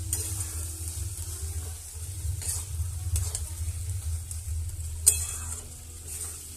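A vegetarian curry of rice, chickpeas, banana flower and a little sugar is stirred in a pan: a soft, continuous low bubbling and sizzle, with occasional light scrapes and one sharper clink of the spoon.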